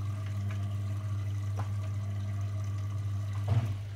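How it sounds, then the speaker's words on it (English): A Beko WMB washing machine in service mode drains its last bit of water, a steady low hum with faint watery gurgles and a small splashy burst near the end. "you'll want to run a quick drain just to get the last bit of water out"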